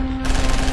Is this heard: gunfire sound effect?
yes